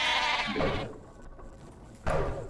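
Sheep in the video game StarCraft II bleat in two distinct calls, a longer wavering bleat at the start and a second one near the end, with quieter game ambience between them.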